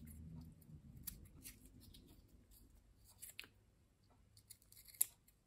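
Scissors snip quietly at close range, trimming excess paper from glued pieces of a soft-cover junk journal, with faint small cuts and rustles and no talking.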